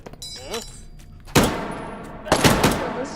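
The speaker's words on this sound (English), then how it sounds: "I didn't hear you over the echoes of gunfire because volume now is loud." Loud gunshots with echoing tails crack through a VR shooter, Into the Radius, two heavy bursts of gunfire ringing out after a quieter stretch.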